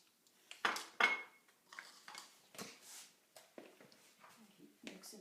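Pie crust dough being mixed in a bowl, giving a series of uneven scraping and clinking strokes of a utensil against the dish, close and fairly quiet, with a person talking between the strokes.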